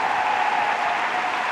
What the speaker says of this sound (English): Can I get a round of applause for your British champion, Amelie Bloxich?